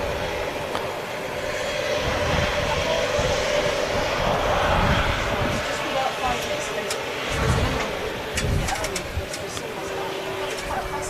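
A Pegasus Boeing 737-800 from Istanbul lands at a windy Manchester Airport, its engines a steady broadband roar held across the whole stretch, with gusty wind noise mixed in.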